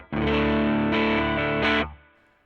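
Calamity Drive overdrive pedal through a clean guitar amp gives a sustained, gritty chord that swells brighter twice, then rings out and fades over about two seconds, with no talking.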